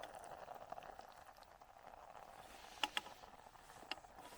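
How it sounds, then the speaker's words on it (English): Quiet, steady bubbling of water at a low simmer in a camp pot, with a few sharp clinks near the end. "I don't know if you can hear it, but the water's boiling off."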